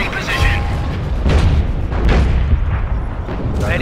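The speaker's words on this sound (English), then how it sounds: "Number 4 gun, 25 pounder. Take 218 gunfire." A British 25-pounder artillery gun fires in the 1944 war game Company of Heroes. Heavy booming blasts burst over a constant loud rumble of battle.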